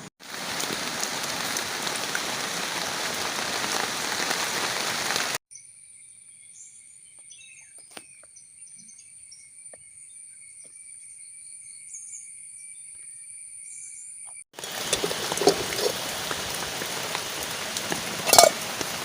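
Tomato saaru boiling in a pot gives a steady, close bubbling hiss that fades to near silence midway, then returns just as dense.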